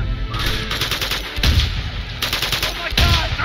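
Rapid bursts of gunfire in the video game Uncharted 2: Among Thieves, dense repeated shots, loud and close, with a brief gap partway through.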